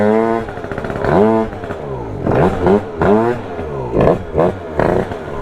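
A Honda Dio scooter engine revving unevenly and bogging, rising and falling bursts of a buzzy two-stroke note, loud and close, several surges in a few seconds.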